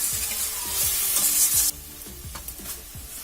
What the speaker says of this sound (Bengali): মশলাটা আপনারা ভালোভাবে কষিয়ে নেবেন।